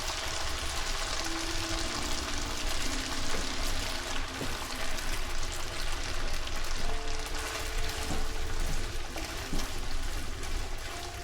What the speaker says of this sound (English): So we need to add the pasta and water until this thing stops sizzling right here